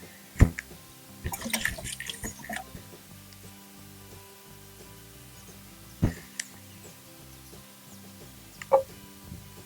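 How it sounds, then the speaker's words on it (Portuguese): Water is poured onto a potted orchid during repotting, with scattered drips and splashes, a busy burst of pouring early on and isolated sharp drops later, over a quiet background. "Aí vamos à parte da rega."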